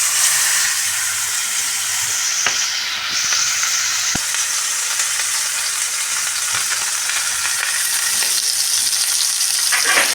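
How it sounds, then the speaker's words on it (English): Beef patty sizzling steadily in a hot pan, a continuous bright frying hiss with a few faint clicks, close and fairly loud throughout. "Put your beef patty on the pan."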